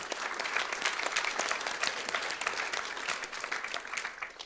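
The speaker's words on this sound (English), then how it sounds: "Applaud for yourself first." A conference audience applauding themselves at an agile testing wrap-up session, with dense, sustained clapping from a full room, steady and fairly loud throughout.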